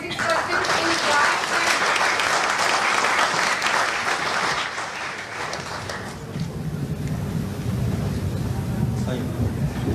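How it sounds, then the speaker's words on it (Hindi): Loud, sustained applause from an audience at a school awards ceremony in Raipur, a dense wash of many hands clapping that eases slightly partway through, with voices faintly under it. "तालियां जोर से बजाइए"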